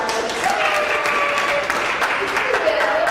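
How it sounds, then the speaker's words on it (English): Audience applause for a volunteer called up on stage at a sales seminar, a steady wash of clapping with some speech-like tones mixed in, fairly loud and close. "Let's give her a round of applause."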